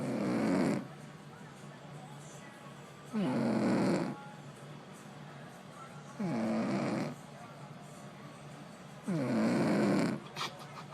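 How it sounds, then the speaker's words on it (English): A woman snores while asleep, four slow, rasping snores spaced a few seconds apart, each lasting about a second, with quiet breathing between them in a still room. "my wife is snoring."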